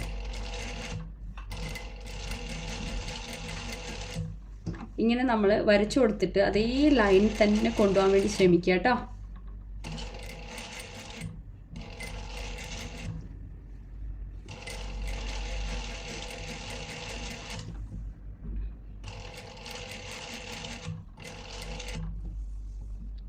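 A high-speed sewing machine runs in repeated stop-start stretches during a stitching lesson, a steady mechanical whir broken by short pauses, while someone talks over it in the middle.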